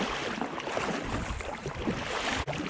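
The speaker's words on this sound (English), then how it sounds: "So I'm still paddling, haven't quite got there yet" A kayak paddled out on Tasman Bay, with close, rhythmic water swishes and splashes from the paddle strokes over a steady wash of wind and sea noise.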